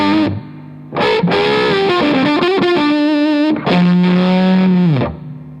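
An electric guitar with P90 pickups, bridge pickup at full volume, plays through a fuzz pedal, giving thick, saturated sustained notes and short riffs that ring loud and close before fading out.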